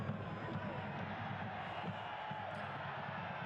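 Large stadium crowd at Chukchansi Park in Fresno during a soccer match, a steady dense wash of murmuring voices and general hubbub from many spectators, continuous and fairly even throughout.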